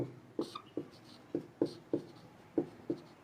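A pen or chalk writes out a geometry question, making a series of about ten distinct, evenly spaced scratchy strokes, close and moderately loud with no talking.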